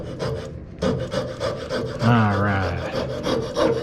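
Hand saw cutting through wood for a cross-lap phone stand: repeated push-pull rasping strokes at an even pace, close and fairly loud, with a brief spoken word at the start.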